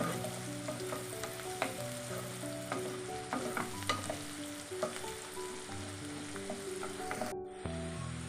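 Onions with a little turmeric fry steadily in a pan for leftover idli upma, a close, continuous soft sizzle with occasional light clicks of stirring, no talk.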